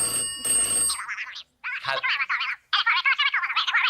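A red telephone rings in loud, rapid electronic bursts, repeated several times with short pauses between, close and alone after a brief musical sting at the start.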